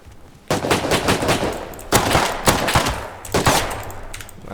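Rapid gunfire from the survival video game Rust, in loud bursts of automatic shots separated by brief pauses, with no talk over it.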